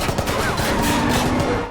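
Rapid gunfire in the action film The Marine, a dense burst of overlapping shots and sharp reports crackling loudly and continuously for under two seconds.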